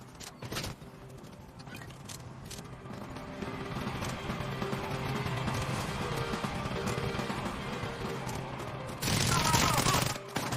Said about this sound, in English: I cracked him with my shotgun 34 and then sprayed him and shot him with the shotgun again.